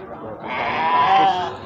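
A sheep at the Argopeni animal market in Kebumen gives one long, loud, wavering bleat up close, filling most of the moment.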